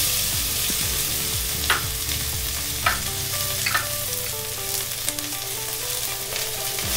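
Onion, chopped celery and carrot sautéing in a Dutch oven, a loud, constant sizzle with a spoon scraping and knocking at intervals, and no one speaking.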